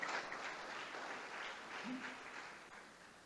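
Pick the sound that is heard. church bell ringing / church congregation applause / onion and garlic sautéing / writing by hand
church congregation applause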